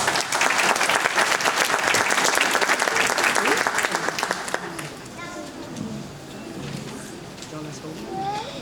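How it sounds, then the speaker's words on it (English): A round of applause for an elementary school student rises loud and dense at an awards event, then thins out and fades with a few scattered claps and murmuring voices. "Please give a big round of applause to Jennifer Chacon Reyes."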